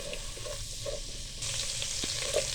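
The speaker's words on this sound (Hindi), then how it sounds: "अच्छा से इसको फ्राई करेंगे हम, ताकि इसकी महक ख़त्म हो जाए।" Garlic paste frying in hot oil for a Chinese-style chicken chow mein, giving a steady broadband sizzle that grows louder partway through, with faint utensil scrapes and no voices.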